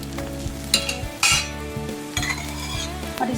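Makki ki roti brushed with ghee being turned over on a hot tawa, giving a steady close sizzle with a few sharp scraping and clinking bursts as it flips.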